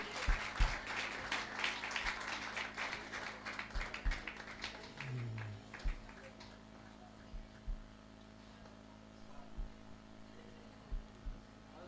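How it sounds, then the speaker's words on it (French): At a ceremony, an audience breaks into applause that swells early on and then thins to scattered clapping, and a presenter speaks over it. "Acclamez pour elle s'il vous plaît pendant qu'elle vient."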